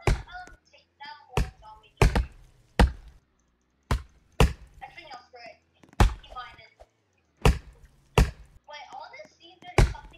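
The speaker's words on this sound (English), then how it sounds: "I'm chopping down this one." Repeated axe chops against a goldwood tree in the Roblox-style Lumber Tycoon game, sharp thunks spaced roughly every second, close and loud, with voices talking in between.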